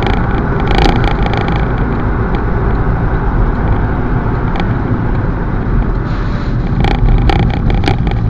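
Steady rumbling road and wind roar inside an Audi cruising at 60 mph, with heavy air noise from the rear of the car, continuous and fairly loud, with a few brief higher clicks and rattles.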